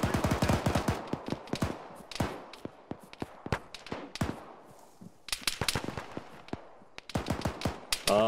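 Rapid bursts of rifle and machine-gun fire crackle through an Arma military firefight with the ShackTac group, sharp repeated shots in clusters separated by brief pauses, some nearer and louder, others distant.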